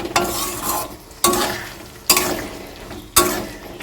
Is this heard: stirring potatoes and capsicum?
yes